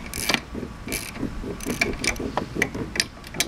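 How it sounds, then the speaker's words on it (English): A hand ratchet clicks in quick rhythmic bursts while bolts are tightened on a lawn mower part, being fitted during a vaporizer valve build; the close, steady ratcheting runs through the whole stretch without talk. "Got my good old trusty ratchet here."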